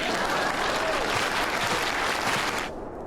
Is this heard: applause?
yes